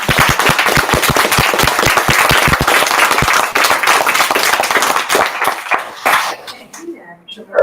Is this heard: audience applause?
yes